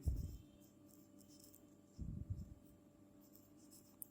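Pen strokes on paper as a mango price is noted during a primary-school maths lesson, two short scratchy bursts with quiet room tone between them.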